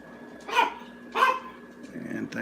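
Dogs bark twice in short, evenly spaced bursts, close by, over a steady background hum, with a faint voice underneath.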